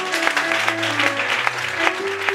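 A church congregation applauds to acclaim the Lord, steady clapping with rhythmic accents over a sustained low organ or keyboard tone, no speech.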